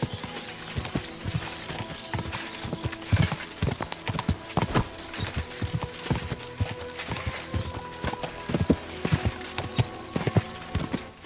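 A horse's hooves pound at a gallop in the medieval video game Kingdom Come: Deliverance 2, a fast, loud, steady drumming of clip-clops with rattling tack running throughout and no one talking.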